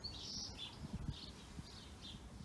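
Repeated high bird chirps come in short bursts at a moderate distance near a backyard pool, a few calls spaced across a quiet background.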